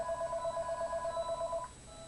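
A telephone rings with a steady electronic warble, a repeating two-tone pattern that plays for about a second and a half before cutting off into quiet room noise.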